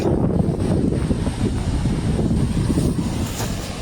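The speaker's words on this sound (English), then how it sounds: "That's about a 20 to 25 foot wave right there." Large storm waves, some 20 to 25 feet high, pound the shore of an island off Portugal, with heavy wind buffeting the microphone in a constant loud roar and no voices.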